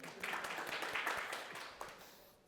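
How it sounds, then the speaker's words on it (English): Audience applause after a question at a marketing operations talk, a steady wash of many hands clapping that swells early, holds, then thins and fades toward the end. "Round of applause for that question."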